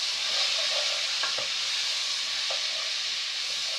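Vegetables for a Mediterranean stew sizzle and hiss steadily in a hot pan while a utensil stirs them, with a few soft scraping knocks.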